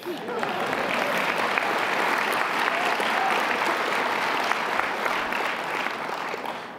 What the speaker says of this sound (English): I think you ought to give a better clap than that.